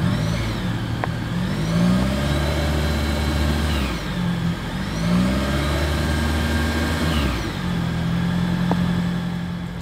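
Exhaust note of a 2024 Toyota Corolla Hybrid, engine rising and falling through repeated revs in roughly three-second swells, a moderately loud mid-range drone with no talking.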